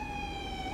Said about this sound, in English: Curious to see where this ambulance is gonna park.